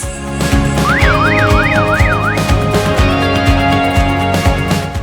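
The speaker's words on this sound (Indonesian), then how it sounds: "sirine juga akan menyala dan berbunyi dengan suara yang keras" A loud electronic siren wails continuously, rising and falling in a fast warbling pattern over a dense, steady electronic drone.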